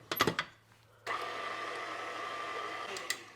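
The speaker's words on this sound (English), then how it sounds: "I'm gonna give it a one more quick little stir just to make sure" A spoon gives rum cake batter a quick stir in a bowl, a few sharp clinks against the side followed by a steady scraping swirl.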